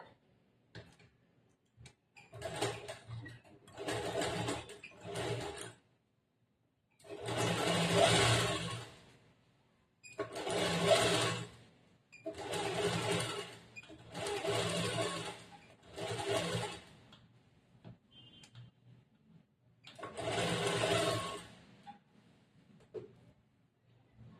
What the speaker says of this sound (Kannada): ಇವಾಗ ಇದ್ರ ಮೇಲೆ ನಾನು ಸುತ್ತು ಕಡೆ ಹೊಲಿಗೆ ಹಾಕೊಂಡ್ಬಿಡ್ತೀನಿ